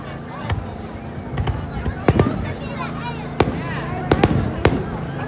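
Fourth of July fireworks at North Cape May crackle and boom in a series of sharp bursts, some close and loud, others farther off, with people talking and reacting throughout.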